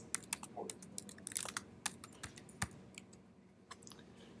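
Computer keyboard typing of a telnet command in a terminal, a quick irregular run of crisp key clicks close to the mic that slows and thins toward the end, with no speech.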